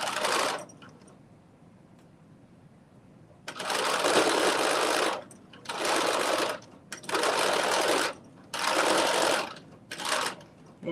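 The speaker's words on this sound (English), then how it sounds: "And do a quick little back stitch." A sewing machine runs a quick back stitch in a series of five sharp, loud bursts of rapid needle whirring after a quiet stretch, sewing a McCall's 8142 bodice.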